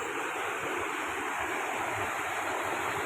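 Stream water flowing over rocks, a steady broadband rush with no breaks, fairly quiet and unaccompanied by voices.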